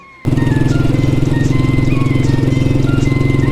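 Royal Enfield Bullet military motorcycle, a former army machine, starts up close by and settles into a loud, steady single-cylinder thump that keeps going without a break.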